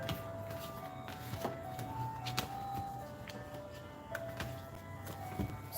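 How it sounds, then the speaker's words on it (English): An ice cream truck jingle drifting in from outside, a faint tinkling melody of thin tones heard at a distance under soft background noise, with no talking. "Sorry for the ice cream truck, y'all."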